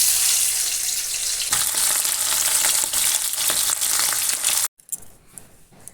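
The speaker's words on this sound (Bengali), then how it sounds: "এখন একটু ওই ফ্যাসা মাছ ভাজবো সকালে খাওয়ার জন্য" Fasha fish frying in a pan, a steady close hiss and sizzle of hot oil that runs loud and continuous before cutting off abruptly near the end.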